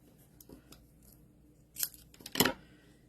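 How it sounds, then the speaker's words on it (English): Scissors cutting pieces from a roll of foam tape: a few faint snips, then two louder crisp cuts near the end, close and alone. "So just going to cut off a couple of pieces here."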